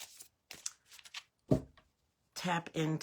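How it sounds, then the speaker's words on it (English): Cards are shuffled in short papery riffles and flutters, close up, with a few pauses between bursts. "And I need to shuffle this again."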